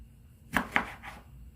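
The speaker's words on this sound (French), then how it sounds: "je prends les tomates et je vais les couper comme ceci" A knife cuts through tomatoes into strips, giving two crisp, close chops on a board followed by a softer third slice, with no talking.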